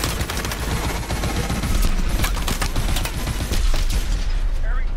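Rapid mech turret fire from Call of Duty: Advanced Warfare rattles in steady, loud bursts for several seconds, mixed with impacts and explosions in a campaign battle against mechs.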